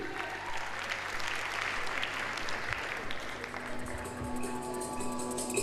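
An audience at a Sindhi community gathering in London applauds a dance group, a steady, full round of clapping from a crowd, with faint music or tones emerging underneath toward the end.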